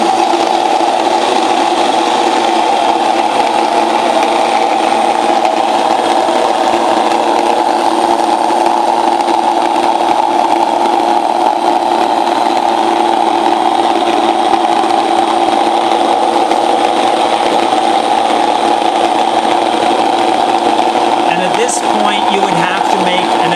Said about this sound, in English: with these mills, you want to make sure you turn them on ahead of time so that they're already running